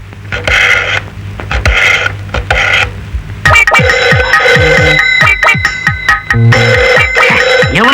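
A telephone rings with a loud electronic ringtone, its bright melodic tones repeating in quick bursts close to the microphone.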